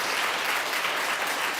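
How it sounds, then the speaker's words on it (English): Audience applause fills the room after a memorial lecture, a steady dense clapping from many people, loud and uninterrupted. "So I'd like you to join me in giving Michelle Mahoney another round of applause."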